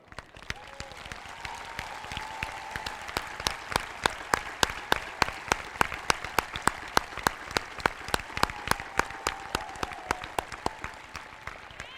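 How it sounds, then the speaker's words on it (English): Applause for teachers and staff at a high school commencement, sustained clapping from a large crowd with a few loud individual claps up close, continuing steadily without speech. "stand and be recognized with a round of applause"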